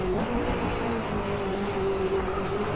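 McLaren race car engine in the racing game Driveclub, a steady loud droning roar holding a sustained pitch throughout with a faint rising whine, continuous and close with no talking.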